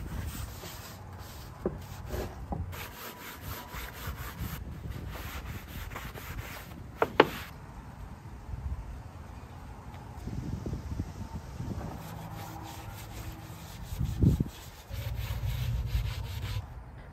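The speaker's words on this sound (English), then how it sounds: "I made sure to scrub with some fine steel wool and mineral spirits to remove any leftover residue" Fine steel wool soaked in mineral spirits scrubs back and forth over stripped wood of an antique buffet, making soft, steady rubbing strokes close to the microphone, with a few brief knocks and no talking.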